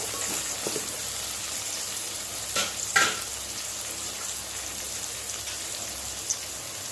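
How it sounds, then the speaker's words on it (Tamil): Green chillies sautéing in a pan while cooking prawn biryani give a steady, close frying hiss with a couple of brief scraping stirs near the middle. There is no talking. "பச்சை மிளகாய் சேர்த்ததுக்கப்புறம் இதையும் சேர்த்து லைட்டாக வதக்கிக்கோங்க"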